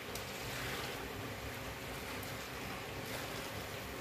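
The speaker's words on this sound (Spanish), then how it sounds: "voy a añadir 2 litros de agua bien, bien, bien caliente" Two litres of very hot water poured for homemade laundry detergent, a steady, continuous rushing splash that stays loud and even throughout with no talking.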